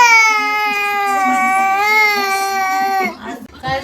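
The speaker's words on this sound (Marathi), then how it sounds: "त्याच्यामुळे ती रडायला लागली होती की ते तिला पण पाहिजे आहे" A baby girl cries loudly and steadily in a home, wanting a bottle, the wails sustained and close before breaking into sobbing whimpers at the end.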